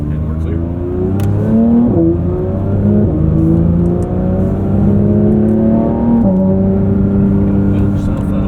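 A 2024 Porsche 911 GT3 engine, loud and close, holds steady harmonics that climb in stepped rises as it revs through the run, with a voice speaking over it.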